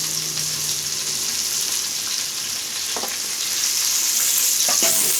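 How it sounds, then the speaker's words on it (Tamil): Sliced onion and green chilli fry in hot oil in a pan, a steady close sizzle with scraping stir strokes partway through. "வெங்காயம் சேர்த்து பச்சை மிளகாவும் சேர்த்துக்கலாம்"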